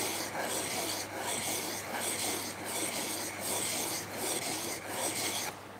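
A woodworking tool's secondary bevel is sharpened in steady back-and-forth rasping strokes, close and continuous, with a regular rhythm of roughly two strokes per second.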